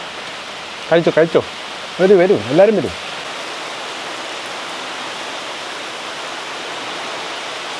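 Steady rain hisses evenly throughout, a broad wash of falling water; briefly a few people speak and call out over it near the start.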